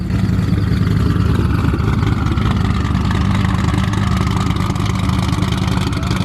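A Bedford truck fitted with a Barra engine and a Maxi setup, running at roll racing, rumbles with a loud, steady, deep idle that holds constant and close, with no voices over it.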